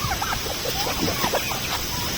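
Native chickens and turkey chicks cluck and peep in short, scattered calls at close range, with a steady hiss of wind behind them.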